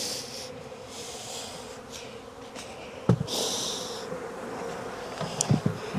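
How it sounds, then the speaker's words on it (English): Steady insect buzzing from a honeybee swarm in a swarm box, a dense hum with a couple of brief knocks or bumps partway through. "I do have this swarm box with a lot of bees in it here"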